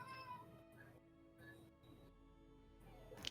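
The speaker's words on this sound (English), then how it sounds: "Sorry, that was my cat." A house cat meows faintly in the background of a home tabletop role-playing game session, a few soft, short calls with quiet room noise and a little faint talk.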